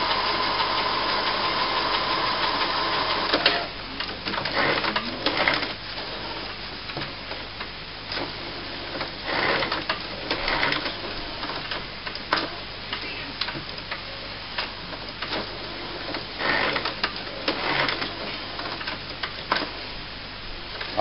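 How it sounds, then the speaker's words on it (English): An HP inkjet printer (C5380/C6300 class, fitted with a continuous ink supply system) runs a long head-cleaning cycle, giving rapid mechanical ticking and whirring, with pulses and clicks of the carriage and pump recurring every second or two, moderately close. "It's going through a head clean just to show you that the ink does travel along these pipes"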